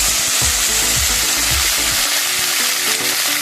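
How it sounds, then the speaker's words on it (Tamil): Mustard seeds and fenugreek sizzle loudly in hot sesame oil, giving a dense, steady crackle and hiss with a few low thumps of stirring, close up and continuous, with no voices. "நல்லெண்ணெய் நல்லா காஞ்சதும் நம்ம எடுத்து வச்சிருக்க வெந்தயம், கடுகு சேர்த்துக்கலாம். கடுகு பொரிஞ்சதும் கருவேப்பிலை சேர்த்துக்கலாம்."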